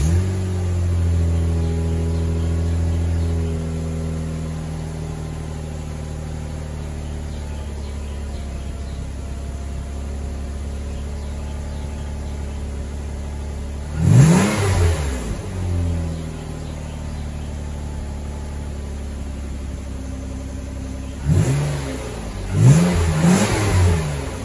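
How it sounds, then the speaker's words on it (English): A Nissan Altima with the 3.5 V6 VQ engine and its muffler deleted idles with a steady low rumble, then revs sharply twice, with a short blip near the middle and a double rev toward the end. No one speaks. "So I'm gonna go ahead and start the car, show you what the exhaust sounds like now."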